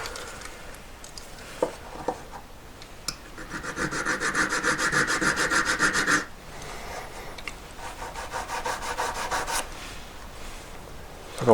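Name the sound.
metal file filing a V inside a collet bezel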